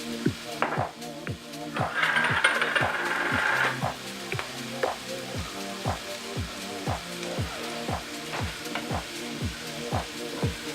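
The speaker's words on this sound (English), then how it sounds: "we're just going to saute these till they get some color" Mushrooms with thyme, salt and pepper saute in a pan for risotto, a steady sizzle broken by a regular run of stirring scrapes and taps, close and moderately loud.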